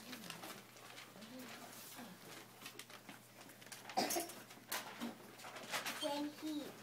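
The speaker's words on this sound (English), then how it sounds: "But then a little bird flew into the hat." A small bird coos softly from inside a hat in a children's story scene, with gentle repeated coos and light chirps over quiet background sounds and a faint voice.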